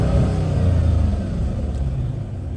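A Dodge SRT Challenger engine revving while parked, held by a 4,000 RPM limiter, a loud steady low rumble that fades slightly toward the end.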